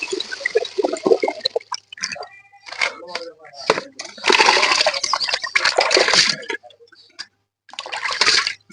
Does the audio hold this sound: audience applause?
no